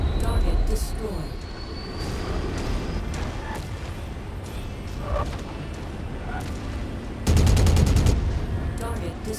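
Mech-mounted machine guns in MechWarrior chatter in rapid bursts over a constant engine rumble, with a louder, denser stream of fire near the end. A voice speaks in between.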